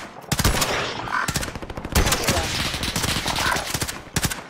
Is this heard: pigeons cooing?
no